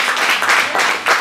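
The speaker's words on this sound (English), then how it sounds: "Let's give them a round of applause" Round of applause from an audience at a comedic curly-hair contest show, a short burst of close, loud clapping in quick surging pulses with no speech.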